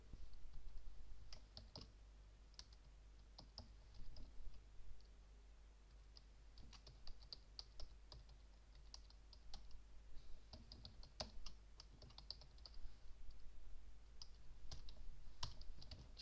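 Quiet computer keyboard typing while writing HTML and CSS code for a simple web project, with irregular bursts of soft clicking keystrokes and short pauses throughout, close and alone with no talking.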